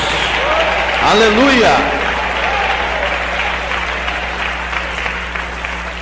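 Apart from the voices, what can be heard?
congregation clapping in church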